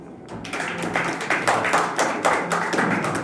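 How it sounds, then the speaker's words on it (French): A press-conference audience claps in loose, pulsing bursts after a short quiet start, close and fairly loud with no talking. "Est-ce qu'on peut applaudir, s'il vous plaît?"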